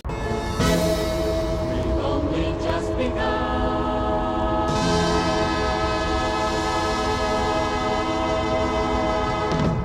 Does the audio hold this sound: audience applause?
no